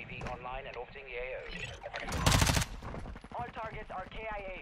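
Gunfire in a team-based shooter video game, a dense burst of rapid shots in the middle of the clip, with players talking before and after it.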